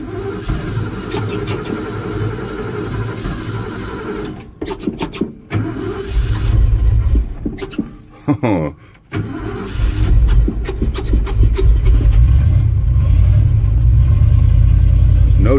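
A Ford F100 pickup with no choke cold-starts on a frosty morning: cranking and sputtering catch into a loud, rough idle, then blips of revving, close by and without talk.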